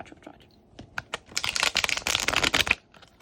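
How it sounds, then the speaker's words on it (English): Tarot cards riffle-shuffled by hand, a few light taps and flicks building into a dense, crisp burst of papery rattling that stops abruptly near the end, close and moderately loud with no talking. "Please ignore my horrible shuffle."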